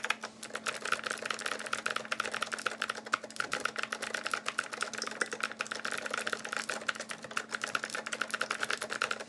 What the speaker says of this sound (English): Clicky thock indeed. The spacebar sounds great.